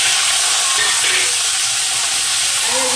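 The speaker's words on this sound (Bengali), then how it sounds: "ফোড়নে দিলাম কাটা রাঁধুনি, দিয়ে দিলাম আলু।" Cut radhuni seeds and potatoes fry loudly in hot oil for a Bengali fish curry, a thick, constant roaring sizzle close up that holds steady throughout.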